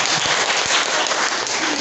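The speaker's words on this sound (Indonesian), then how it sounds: "Tepuk tangannya ini agak kurang itu." Steady applause from an audience at a school education talk, a dense continuous patter of clapping filling the short stretch at even loudness, with no voices over it.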